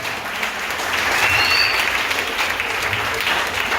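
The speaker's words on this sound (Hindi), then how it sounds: "तालियां हो जाए।" An audience at a sermon breaks into sustained applause, a dense, even wash of clapping that swells and holds for a few seconds with a faint murmur of crowd beneath.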